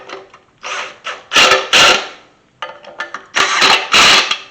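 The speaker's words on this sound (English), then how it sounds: "now I'm going to use an impact" Impact wrench running bolts in slowly on a 1991 Chevy C1500 truck, short close bursts of rattling, hammering whir separated by brief pauses, growing louder and longer toward each burst's end.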